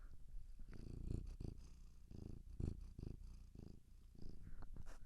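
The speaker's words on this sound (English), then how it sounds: "let's get a little purr check." A cat purrs up close, a soft rhythmic rumble pulsing with each breath, quiet and steady with no other sounds.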